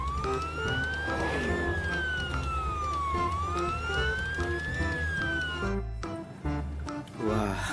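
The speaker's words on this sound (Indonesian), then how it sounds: "Ini mobil ambulan untuk membawa orang sakit." A toy ambulance plays a loud electronic siren that rises and falls steadily in a wailing pattern, then stops abruptly before a few clicks and a brief restart.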